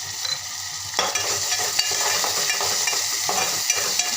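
Finely chopped tomato sautéing with capsicum in a pan, a steady frying sizzle with repeated spatula strokes scraping and stirring through it, close and fairly loud with no voices.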